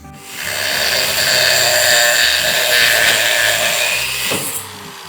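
A power tool grinds steadily through 70-year-old rusted trailer U-bolts on a vintage Nationwide trailer, a loud, continuous whining cut that fades off at the end.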